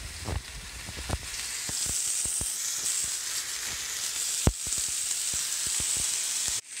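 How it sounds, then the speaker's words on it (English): Peppers sizzle in a pan with a steady, moderate hiss, while sharp, irregular knife taps on a cutting board sound close by as tofu is cut. "I am cutting up the tofu while the peppers sizzle away over there."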